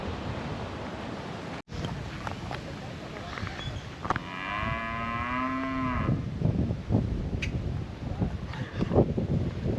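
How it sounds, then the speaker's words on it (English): A cow moos on a road in Nicaragua, one long, rising and falling call in the middle, close and clear over wind and traffic-like rumble, with a sharp dropout near the start. "Oh, not the cow in the road."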